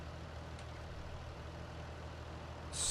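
Forage harvester engine in Farming Simulator 19 running as a steady low idle rumble, rising in loudness at the very end as it comes up to speed.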